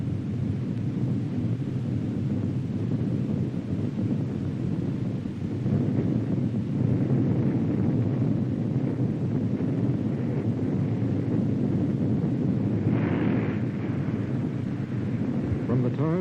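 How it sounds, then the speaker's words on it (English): China's first thermonuclear bomb explodes in archival footage, a deep, sustained roaring rumble that stays loud and steady for about sixteen seconds with no break. "Our nation's first nuclear bomb containing thermomaterials explodes"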